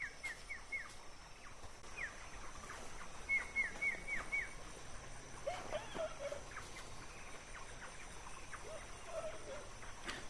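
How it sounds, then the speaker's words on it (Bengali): Wild junglefowl call from a distance in the Nandichhara hills near jhum fields, short crowing bursts repeating every few seconds over a constant hum of insects and forest ambience. "জঙ্গলি মুরগির আওয়াজ শোনা যাচ্ছে ঠিক এই জায়গায়।"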